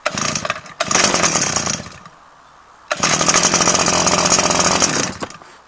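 A small engine fitted with a Mitsubishi carburetor, run without its air cleaner, sputters loudly nearby. It races in two bursts, drops to a near stall in between, then catches again and fades at the end.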